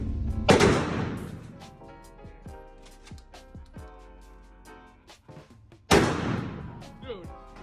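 Two loud, sharp blasts from a light Kel-Tec KS7 shotgun, one near the start and one toward the end, with mechanical clatter and faint voices between them.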